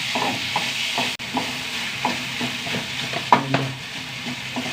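Steady frying sizzle of onions and tomatoes sautéing in a pan, with repeated scraping and stirring knocks, close by, one louder clatter near the end.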